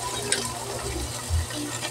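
A kitchen tap runs steadily while Filipino home cooking is underway, a continuous close gush of water with a slight surge near the end and no talking.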